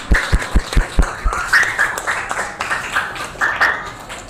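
Applause for a presenting group at a classroom or school gathering: a few people clap in a loose, uneven rhythm for several seconds, with moderate loudness and no speech.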